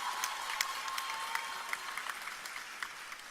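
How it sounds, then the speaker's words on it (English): An audience at a university graduation ceremony applauds, a dense, steady patter of many hands clapping in a large hall, sustained throughout. "so we could do much better with that round of applause"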